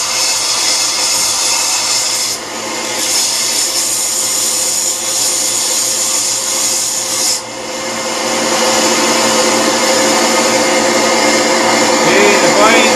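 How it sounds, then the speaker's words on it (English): A sander machine grinds steadily against a homemade slip harpoon tip, a loud continuous whirring rasp that dips briefly twice as the piece is shifted, then carries on alone without talk. "Now I'm going to use a sander machine to make it more smooth."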